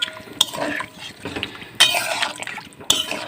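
Water poured into a potato curry cooking in a pot, splashing and bubbling liquid with a few sharp clinks of a utensil against the pot, close and with no talk.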